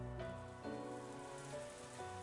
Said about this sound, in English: I listened to the soothing sounds of raindrops hitting the scrap iron in the trash heaps